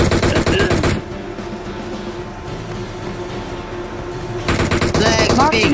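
Rapid automatic gunfire in the mobile battle royale game PUBG Mobile, loud bursts opening and closing the moment with a quieter stretch between, heard alongside players' voice chat.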